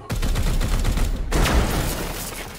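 Gunfire from a shot in Warhammer 40k: Chaos Gate - Daemonhunters, a dense burst of rapid loud shots rattling for over a second, then a second heavy blast with a lingering rumbling tail.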